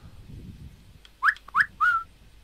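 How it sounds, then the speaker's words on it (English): A character whistling in the Trials of Wilderness video game: three short rising whistle notes in quick succession over a faint low background hum. "Oh, I can whistle."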